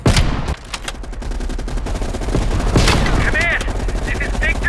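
Dense rapid gunfire fills a Call of Duty: Black Ops Cold War cutscene with soldiers pinned on a ridge, loud bursts and booms overlapping continuously with scattered shouting voices.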